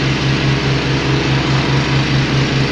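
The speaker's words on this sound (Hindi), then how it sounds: "ये एक्सीलेटर हम लोग धीरे धीरे बढ़ाएंगे तो यहाँ पे पुल्ली घूमना चालू हो गई और ये आपका कॉम्पैक्टर वर्किंग चालू हो गया" A soil compactor powered by a Honda GX160 petrol engine runs loud and close, with a continuous pulsing drone and no pauses.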